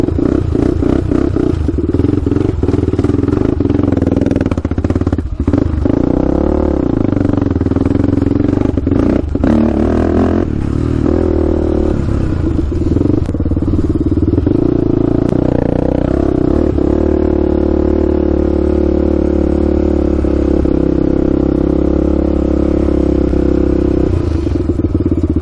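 A Honda 400EX quad's engine on its first break-in ride runs loud and close, with the throttle whipped sporadically so the revs rise and fall over a steady drone.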